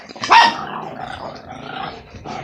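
A big dog growls and lets out a sharp bark near the start, followed by a lower continuous growl, close and fairly loud.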